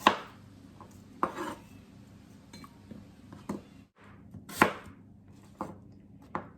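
A knife chops through three varieties of apples on a cutting board in irregular, crisp strikes, with occasional light clinks and no talking.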